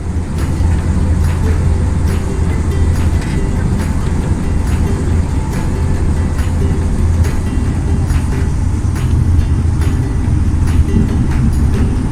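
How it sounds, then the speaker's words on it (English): Steady low rumble inside a moving train carriage bound for Edinburgh, with rhythmic clatter of wheels over the rails and faint background murmur. "We're on the train to Edinburgh"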